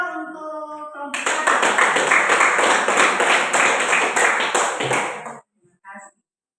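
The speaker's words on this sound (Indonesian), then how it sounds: "Tepuk tangan dulu untuk kelompok" A classroom group claps together in a dense, loud burst of applause lasting several seconds, cut off abruptly, with a few scattered claps after and a voice speaking just before it.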